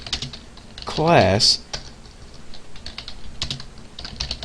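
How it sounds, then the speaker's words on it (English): Rapid clicking of computer keyboard keys while code is typed in a Java programming session, a close and steady patter of keystrokes with a short spoken word near the middle. "Let's go ahead and type private"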